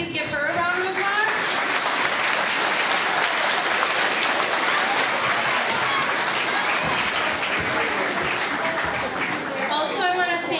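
A school audience at an elementary holiday program applauds with dense, sustained clapping throughout. Some murmured voices mix in and the clapping stays steady before tapering near the end.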